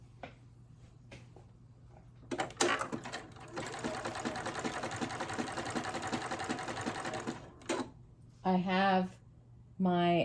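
A serger sewing machine stitches a three-layer folded test piece of fabric, a steady rapid mechanical chatter running for about five seconds, followed by brief bits of talk.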